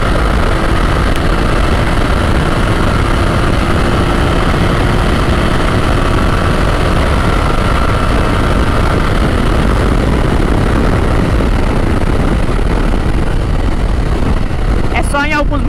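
A BMW F900 GS motorcycle accelerating on the road, its engine noise mixed with a loud, constant roar of wind buffeting throughout, with a rider speaking over it.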